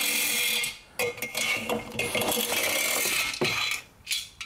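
Three Torx T27 screws being backed out of the muffler on a Stihl BR450C two-stroke leaf blower, giving close metallic clicks, scrapes and small rattles in short bursts with brief pauses, no talking.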